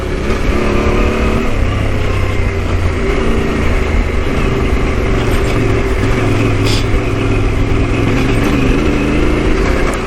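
A Yamaha T7 adventure motorcycle on the move, its engine droning loud and steady with shifting tones as it rides over rough ground, with a rider talking over the noise.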